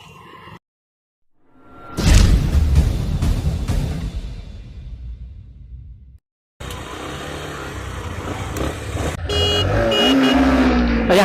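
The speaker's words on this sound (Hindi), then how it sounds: "यहाँ पे रेस शुरू, यहाँ पे आगे SP बहुत तेजी में" A Honda SP 125 BS6 and a Bajaj Platina 110 BS6 race at top speed, heard as a loud vehicle whoosh that swells and fades, then a steady close engine drone continuing to the end, with no speech.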